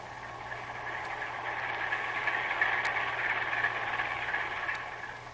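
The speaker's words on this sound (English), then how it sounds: "Heavy engines and 2 propellers." Submarine hydrophone picking up a ship with heavy engines and two propellers, a steady low throbbing hum with a faint rising and falling drone and occasional clicks, no voices.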